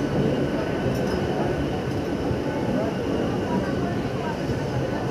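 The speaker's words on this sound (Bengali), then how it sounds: "এই দেখছেন এখন ট্রেন ছেড়ে চলে আসছে দীঘা স্টেশন থেকে।" A passenger train pulling out of Digha station in West Bengal gives a loud, constant rolling rumble with steady wheel and carriage noise heard from on board, unbroken for the whole stretch.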